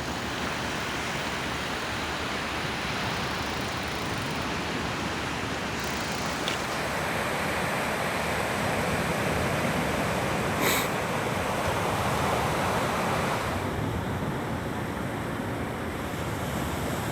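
Waves break on Sola Stranden beach near the airport runway in Norway, a steady loud roar of surf mixed with wind and no pauses.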